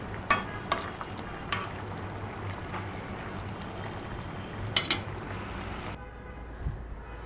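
Fish slides into a simmering potol curry with a soft, steady bubbling. A spoon clinks against the pan a few times as the pieces are stirred in. The bubbling then cuts to near-quiet.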